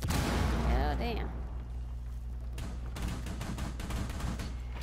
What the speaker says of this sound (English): They're trying to shoot at me.